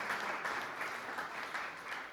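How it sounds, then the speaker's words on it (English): Audience applause at a village council meeting honoring a local man, a steady, moderately distant wash of many hands clapping at once with no talk over it. "If we could clap for him as well."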